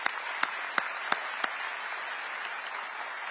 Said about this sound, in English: Give our state leaders a round of applause.